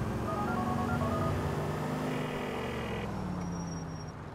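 A phone in Grand Theft Auto 4 dials a number, sending a quick series of clear electronic keypad tones over a soft background hum, then fading away.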